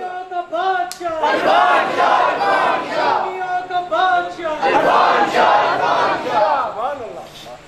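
A large gathering at a Mairaj Sharif religious event in Mirpur shouts slogans in unison, loud call-and-response chanting in repeated bursts that swell and fall, with a leading voice cutting in between the crowd's replies.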